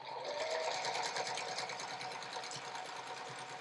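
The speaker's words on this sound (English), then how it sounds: "sewing a 1/4 inch seam across here" A sewing machine stitching a quarter-inch seam across quilt block pieces laid right sides together, running steadily and continuously at close range with a fast, even mechanical whir and rapid needle clatter.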